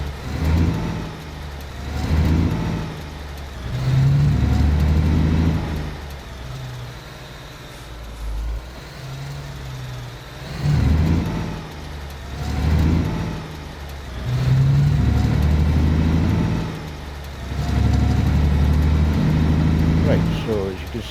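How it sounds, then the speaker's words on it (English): Truck engine in the Alaskan Truck video game on PS5, rising and falling in repeated swells as it revs and pulls away, fairly loud and low, with someone talking over it throughout. "So let's go and start up the truck."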